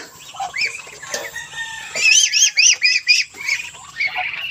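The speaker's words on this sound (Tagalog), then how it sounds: "Nagkagulo na naman po yung ating mga bibe." Farm ducks squabble noisily, a run of loud, close squawks and quacks in rapid bursts, densest in the middle and trailing into scattered calls.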